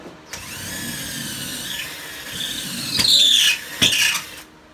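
A power drill runs at a steady whine, then bites into material and lets out sharp, piercing shrieks before cutting off.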